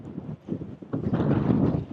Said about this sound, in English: it's super windy, so I hope the wind is not drowning out my voice too much